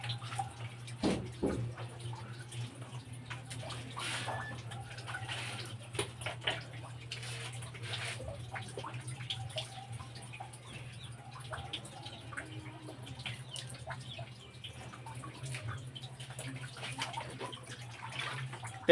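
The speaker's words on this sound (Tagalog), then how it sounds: "patayin na yung tubig" A tap runs steadily at low level, a soft continuous water hiss with scattered drips and small splashes, fairly close, with faint voices in the background.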